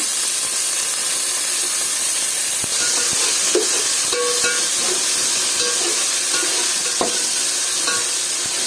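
Ginger garlic paste frying in oil in a pan for mutton keema biryani, a steady close sizzle and hiss with a few soft stirring scrapes partway through, and no voices.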